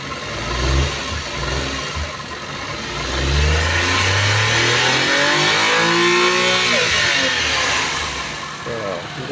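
A Suzuki Multicab DA64 engine revs up and down loudly, rising and falling in pitch over steady mechanical running, with a person talking over it.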